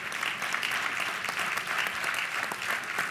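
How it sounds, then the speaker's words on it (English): Steady, dense applause from a large audience at the National Action Network convention 2022, sustained and even throughout, heard from within the hall with no clear speech. "Can we give this National Action Network convention a big hand"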